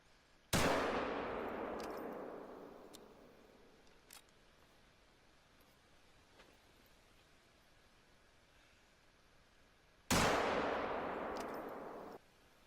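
Two loud 7mm Magnum rifle shots ring out in a hunting video game. Each is a sharp crack followed by a long fading tail, with a quiet gap of several seconds between them.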